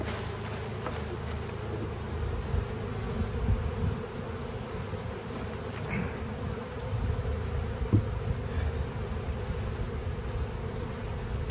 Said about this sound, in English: Shake these bees down.